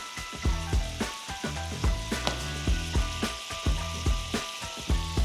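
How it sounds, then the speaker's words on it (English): Deer meat sizzles steadily in a hot pan for several seconds, a continuous close frying hiss broken by soft rhythmic stirring scrapes, with no talking. "Deer meat's been cooking for about 3 or 4 minutes now."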